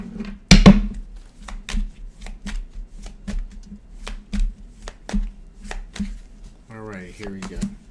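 Rapid crisp riffling of tarot cards being shuffled, a series of sharp slaps and flicks in a steady rhythm, close by, with a brief voice near the end.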